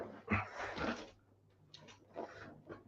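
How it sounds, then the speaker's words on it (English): A dog close by makes a few short, breathy vocal sounds, whimpers and soft yips in uneven bursts with pauses between, fairly quiet and with no talking. "Messing around with this dang dog."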